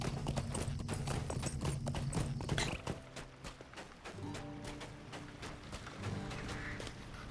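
Horse hooves clip-clopping at a steady rhythm in the online game The Lord of the Rings Online, joined by game music and combat noise throughout, with no talk.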